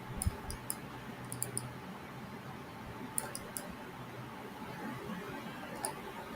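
A computer mouse clicks in HyperMesh 2019 meshing software: sparse, crisp clicks, some in quick pairs or triplets, quiet and close over a low steady hum.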